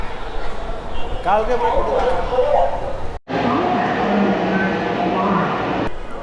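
Busy metro platform ambience at Dhaka University metro station in Dhaka, with a constant rumble and crowd murmur, voices talking throughout, briefly cutting out midway.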